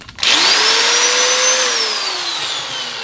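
A power tool spins up sharply and runs with a steady whine as a knurling tool cuts inside an engine valve guide, the pitch sagging slightly as it works, loud and close.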